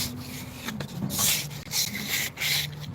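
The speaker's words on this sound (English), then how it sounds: "you can sand the primer down too" Sandpaper rubbing over a primed, painted surface during prep before painting: a steady, close scraping rasp in repeated strokes with brief pauses between passes, with no voices.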